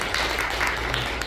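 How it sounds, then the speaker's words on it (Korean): Church congregation clapping together during a service, a brief, dense, steady patter of many hands at close range. "다시 박수."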